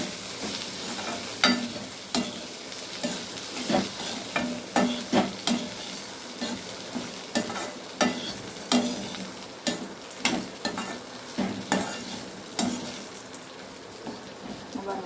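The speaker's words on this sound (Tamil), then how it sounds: "நான் வந்து இதிலே சேர்த்துட்டு வதக்கி விட்ருவேன்" Beetroot being sautéed with salt in a pan, with a steady sizzle broken by repeated sharp scraping and stirring strokes at an uneven rhythm, close and clear throughout.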